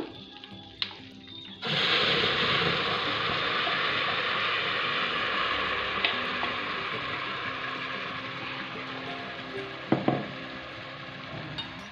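Butter heats in a pressure cooker on a stove: a sudden strong sizzle starts after a moment and continues as a steady frying hiss, with a few light clicks and taps of utensils.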